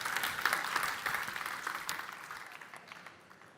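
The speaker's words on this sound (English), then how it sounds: "Big applause for Dominik, ladies and gentlemen" Applause at a startup pitch event for a speaker taking the stage, a steady patter of clapping from a modest audience that slowly fades toward the end.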